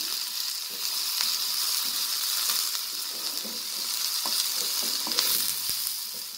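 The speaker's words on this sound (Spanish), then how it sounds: "un poquito de aceite. Aquí voy a vaciar lo que es la cebollita." Chopped onion frying in a little oil in a pan, a steady dense sizzle with occasional soft stirring clicks, continuous and fairly close with no talking.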